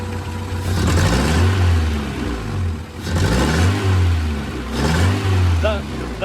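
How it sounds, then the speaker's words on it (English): Acura Integra DB1 engine rough and clattery with a part-throttle misfire, revving in three loud uneven swells with stumbling, close by, while people talk over it. "The part throttle misfire."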